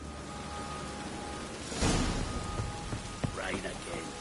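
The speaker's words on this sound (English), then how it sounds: "Rain again." Steady rain hisses throughout, with a louder gust of downpour swelling midway and a few distinct drops or knocks afterward, heard alone without talk.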